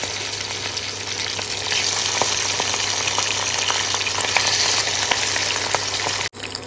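Pabda fish fry in hot oil, a loud, dense, continuous sizzle with crackling pops that holds steady throughout and breaks off briefly just before the end.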